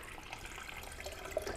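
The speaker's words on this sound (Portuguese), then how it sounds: "200 ml de água, vamos colocar aqui no nosso liquidificador aqui." About 200 ml of water pours into a blender, a soft continuous splashing trickle with a few brighter drips toward the end and no speech.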